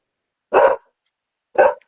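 A dog gives two short, sharp barks about a second apart, close and loud against silence.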